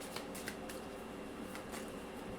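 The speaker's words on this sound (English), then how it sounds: "All right, let's pull some oracle cards for this pile." Oracle cards being shuffled and pulled from a deck, a soft continuous riffling and sliding of card stock with a few crisper flicks, close and quiet with no voices.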